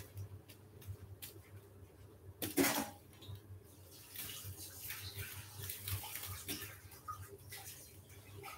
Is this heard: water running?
yes